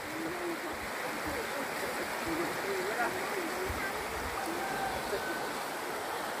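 The Bedono river flows near a bridge in a village, a steady broadband rush of water close by, constant in level with faint voices mixed in.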